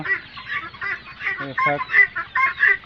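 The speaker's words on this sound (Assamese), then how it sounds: "এইবিলাক হ'ল জাপানিজ কোয়েল, এইটো লেয়াৰ জাত বুলি কয়" Japanese quail of a laying breed call in a poultry pen, with loud nearby clucking and chirping notes repeated in short bursts among other fowl.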